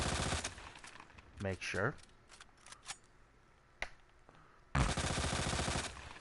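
Rapid bursts of gunfire from the video game Resident Evil 2: a loud rattling volley opens, a few scattered shots follow amid a man's speech, then another sustained burst of rapid shots closes.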